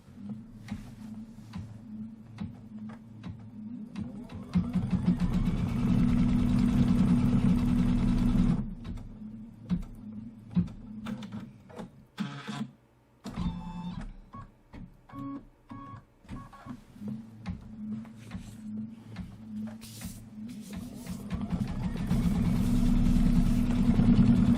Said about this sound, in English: Now we're going to stitch the placement line for the 2 tires.